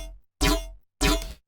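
A synthesized yoink made in Serum with no low-pass filter, heard as two identical short bursts with a noisy, crunchy, scraping attack and a deep low body, separated by silence.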